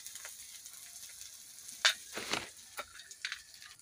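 Bodi (sun-dried lentil dumplings) and fish pieces fry in a pan with a soft, steady sizzle, broken by a few sharper crackles and spatula scrapes, heard close with no talk.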